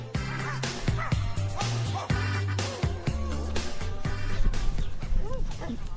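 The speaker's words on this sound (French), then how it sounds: "il voit tous les autres chiens et tout ça, il adore ça" Dogs barking repeatedly at a kennel, loud close barks and yips in quick succession with some whimpering, while people talk faintly underneath.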